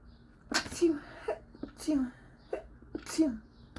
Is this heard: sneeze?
yes